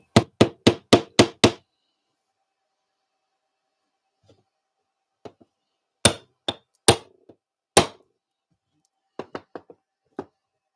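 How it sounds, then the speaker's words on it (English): Hammer blows on a throw being set over a hole, a rapid burst of six sharp strikes, then scattered single and paired knocks after a pause, close and loud with no talking. "Right, a bit of hammering."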